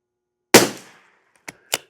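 A single sharp, close rimfire crack from CCI SV ammunition lubed with Chapstick and mineral oil rings out with a short decaying tail on a humid outdoor range, followed by two brief, softer clicks.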